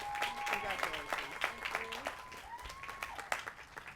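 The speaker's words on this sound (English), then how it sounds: "Let's give another round of applause to our valedictorian of the class of 2024, Christy Sangpolsit." Audience applause for the class of 2024 valedictorian at a College of Alameda graduation ceremony, steady clapping throughout with a voice and tonal sounds over it.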